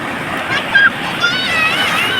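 Sea waves wash in at Nellore beach, a steady hissing surf close by, with voices and bright chatter in the background.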